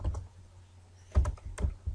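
A name being typed on a computer keyboard while building an Android app, with a few soft keystrokes followed by a louder cluster of quick close taps near the end.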